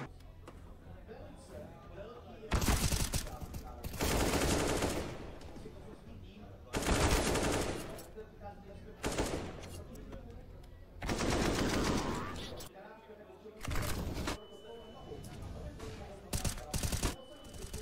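Bursts of automatic gunfire from a Counter-Strike grand final match, arriving in several loud volleys separated by quieter gaps, with commentators talking between and over the shots.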